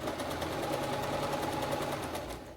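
A sewing machine stitches fabric in a fast, steady run, its needle producing a rapid even patter that is close and alone throughout.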